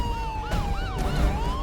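An ambulance siren wails in a continuous rising and falling sweep, loud and fairly close, over low traffic rumble.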